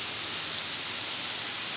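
Steady rain falls during a downpour, a dense, even hiss of drops on surfaces that stays constant and fairly close throughout, with no voices over it.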